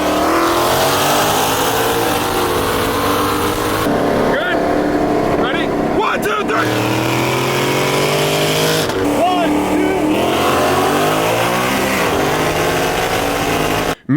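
Ford Raptor trucks drag racing, engines roaring loud and continuous with revving pitch sweeps, a dense unbroken roar that cuts off abruptly at the end.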